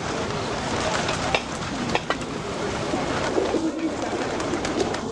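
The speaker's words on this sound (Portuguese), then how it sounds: "você também vai se dar bem com os pombos." Pigeons coo in Puerto Rico against a busy, steady outdoor background, their soft calls low and partly buried in the ambient noise with a few sharper knocks.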